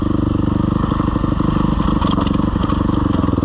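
Suzuki RMZ dirt bike engine running steadily while riding over loose rocks in a corner, a loud continuous motor drone with scraping and clattering from the terrain, no talk.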